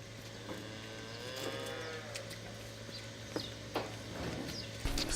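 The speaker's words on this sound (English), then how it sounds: "Suddenly, the cows and calves come out and start jumping around the yard in excitement, and Bailey starts to bark to keep them away" Cows and calves moo as they come out of a farm shed, several drawn-out lowing calls near and far over a steady farmyard hum, with a few sharp knocks toward the end.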